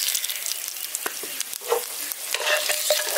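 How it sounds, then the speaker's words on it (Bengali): Whole five-spice seeds, a dried red chilli and a bay leaf crackle and sizzle in hot oil in a pan, with a steady close frying hiss and scattered pops and scraping stirs throughout. "এবার তেলটার মধ্যে ফোড়ন দেবো"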